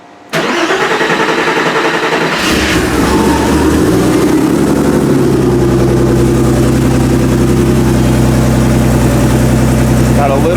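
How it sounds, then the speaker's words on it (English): A Porsche 911 engine cranks briefly, catches and starts up loudly, then settles into a steady, rumbling idle close by, with a voice over it. "It usually cranks and starts right up, so this should be pretty uneventful."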